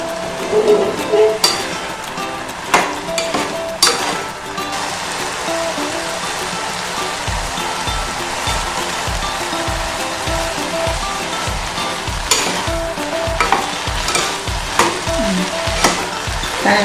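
Grated coconut is stirred into banana stem poriyal cooked with moong dal, giving a steady close sizzle with repeated scraping stirs of a spoon against the pan, and a few faint background noises.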